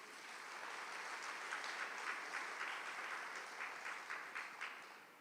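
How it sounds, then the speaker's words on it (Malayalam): Audience applause in a Malayalam lecture hall, a sustained steady clapping from a crowd with scattered louder claps, continuous throughout with no voices. "ഒന്ന് കൈയുയർത്തി കൈയടിക്കുക"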